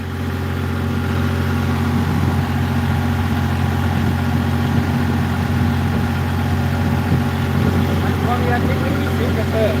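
An engine-driven water pump runs steadily while pumping out floodwater at a flooded house, a loud continuous low idling drone with a rough rattle, and voices faintly underneath.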